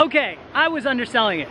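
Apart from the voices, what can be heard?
No everyday noise stands out behind the speech.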